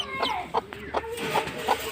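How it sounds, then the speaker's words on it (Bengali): A native Bangladeshi desi hen clucks softly nearby, a few short repeated clucks spaced evenly in a quiet setting. "আমার দুইটা দেশি মুরগি"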